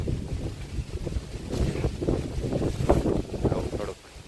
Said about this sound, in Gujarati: તો ભાઈ પવન ગજબ આવે છે.